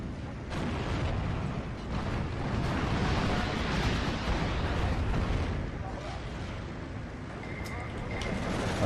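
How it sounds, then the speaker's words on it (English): IL-2 airstrike explosions in a World War II strategy game, Steel Division 2, roll out as a dense, continuous rumble of blasts and booms, loud and sustained with no clear gaps. "Big old airstrike, that'll do nicely."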